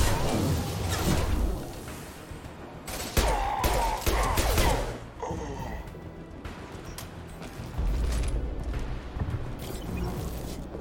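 Gunfire and a grenade explosion from the Mass Effect 2 combat mission on Korlus, heard as bursts of shots and heavy blasts, loud and close, with quieter gaps between volleys.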